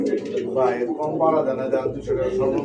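Pigeons at a bird market coo in soft, repeated throaty rolls close by, mixed with people talking.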